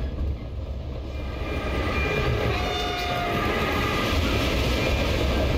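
In the horror video game Reveil, a ghost train rolls past with a heavy rumble that swells and holds steady. A faint horn-like tone sits above the clatter.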